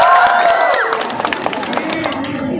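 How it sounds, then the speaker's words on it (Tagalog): Crowd clapping and cheering at a community event in Lagonoy, Camarines Sur, with a short burst of shouts and whoops over busy clapping, loud and close, fading into scattered claps and chatter. "Isang palakpakan naman dyan may kasamang hiyawan"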